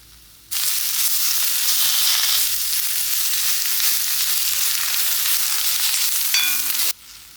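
Ginger garlic paste and spices hitting hot oil for chicken curry, a sudden loud close sizzle that holds steady for several seconds and then cuts off abruptly.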